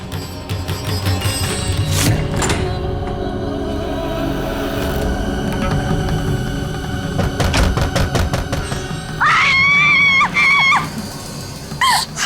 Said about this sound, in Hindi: चिल्ला मत, भूत नहीं आ जाएगी।